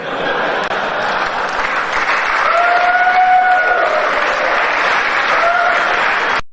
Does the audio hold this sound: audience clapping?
yes